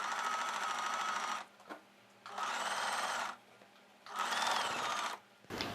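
A sewing machine stitches a plain blouse in straight runs, three close, buzzing bursts of motor whir, each over a second long, separated by short quiet pauses with faint clicks.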